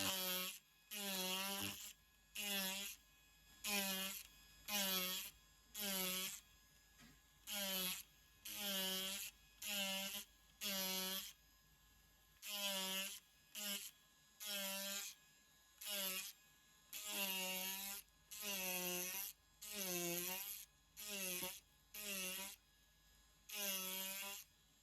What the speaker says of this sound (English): So I'm just going to do that with the trusty Automach and blow that out